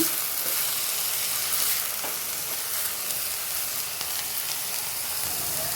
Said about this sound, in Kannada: ಹೀಗೆ ಹಸಿ ವಾಸನೆ ಹೋಗೋವರೆಗೂ ಚೆನ್ನಾಗಿ ಫ್ರೈ ಮಾಡ್ಕೊಳ್ಳೋಣ.